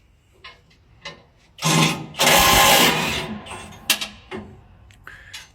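A Rote electric impact wrench drives bolts on the tine bars of a peanut harvester's small drum, heard as two loud bursts of whirring and rattling, a shorter one and then a longer one. Clanks and short knocks come between and after the bursts.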